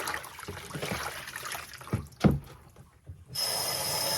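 Running water rinsing shampoo out of a wig under a tap, a soft continuous splashing flow with a few wetter squelches as the hair is squeezed, then a steadier hiss of the faucet.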